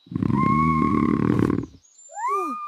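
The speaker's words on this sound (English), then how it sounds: "a lion's roar is so loud, you can hear it 5 miles away" A loud lion roar sounds for about a second and a half, close and alone, followed by a short wavering call, likely from a cartoon.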